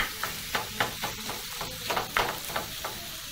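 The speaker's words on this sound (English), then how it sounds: "we're going to add the pork. And using a wooden spoon, I'm going to proceed to split those chunks in the pan" Pork chunks fry in a hot pan as a wooden spoon breaks them up, giving a steady sizzle punctuated by regular scraping strokes, close and moderately loud with no talking.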